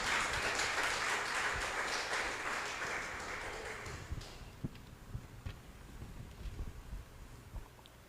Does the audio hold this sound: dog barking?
no